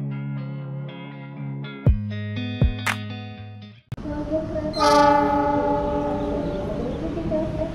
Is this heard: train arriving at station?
yes